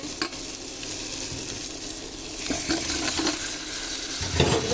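Spice masala sautés in a pan for potato alur dom, a steady frying sizzle with intermittent stirring scrapes, close and moderately loud with no voices.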